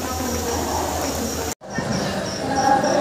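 Dhauli Express from Puri to Howrah standing at a station halt: a steady rumble of idling train and platform ambience, broken by a brief sharp dropout midway, then the noise returns and swells slightly louder.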